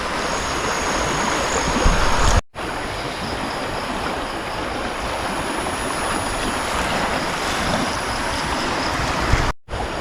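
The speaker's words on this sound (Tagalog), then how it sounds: "Lakas ng ragasa ng tubig," A large river in spate rushes past, a loud, unbroken roar of turbulent water that runs throughout and drops out twice for a moment, with no talk.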